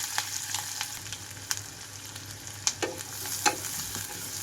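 Chopped onion and two green chillies frying in tempering oil make a soft, continuous sizzle with scattered sharp pops and crackles close by.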